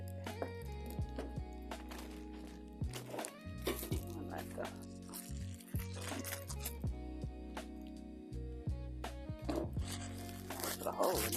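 Close, quiet crinkling and scraping of plastic packaging being opened during the unboxing of a metal circle wedding arch, in irregular bursts of rustling with a low steady hum underneath.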